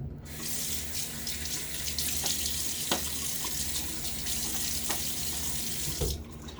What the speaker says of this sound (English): I've got that hot water coming up through the pipes.